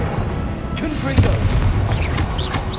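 A Confringo fire spell in Hogwarts Legacy bursts with a booming blast over busy game sound, followed by crackling bursts and swooshing effects.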